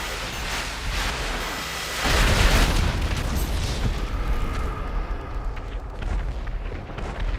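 Booming bomb explosions in GTA Online, a heavy low rumble swelling around two seconds and rolling on as a sustained, dense roar that slowly thins out, with no talking over it.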